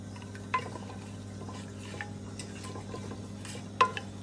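Whole spices stirred in oil in a pot, a faint soft scraping and swishing over a low hum, with two sharper clinks of the spoon against the pot.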